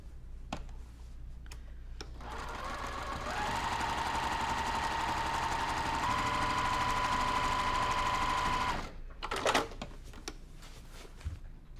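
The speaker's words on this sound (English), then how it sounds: "Okay, so now I just need to sew over this right here. So I'm just gonna do that real quick." A sewing machine stitches over a quilt, running as a steady, fast mechanical hum and whir for several seconds between brief handling clicks, fairly quiet and close, with no talking.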